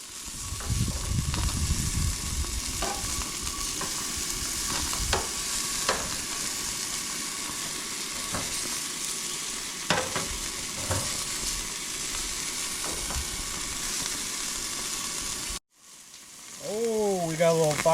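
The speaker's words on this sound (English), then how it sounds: "We're basically gonna grill these on both sides, flip them a couple times." Wisconsin-style beer brats and onions fry on a camping grill, a loud, continuous sizzle with occasional pops and spatula scrapes, then a brief drop before a voice is heard at the end.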